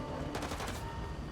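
Rapid gunfire in the Spider-Man 2 video game, a quick rattling burst of several shots under steady background noise, fairly faint.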